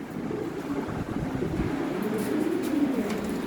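Lahori Shirazi pigeons coo softly and continuously in a low murmur, steady throughout against a faint airy background with no talking.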